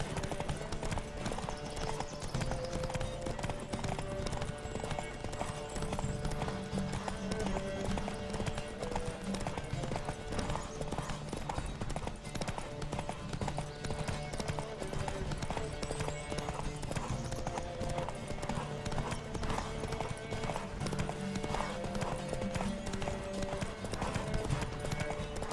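Horse hooves gallop at a steady clip-clop pace in The Witcher 3: Wild Hunt, running continuously and loudly over a dense bed of game music throughout.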